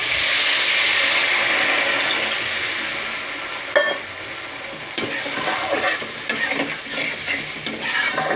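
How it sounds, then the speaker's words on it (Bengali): Water goes into a hot, sizzling pan of spiced oil for a bhola fish curry, a loud hiss and crackle at first that settles into softer bubbling and stirring knocks, without speech. "এবার আমি জল দিয়ে দিলাম।"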